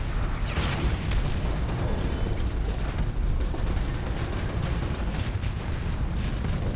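Missiles burst in a space battle video game, a dense, continuous barrage of overlapping booms and crackling blasts with a steady low rumble underneath, loud and unbroken for several seconds with no talking.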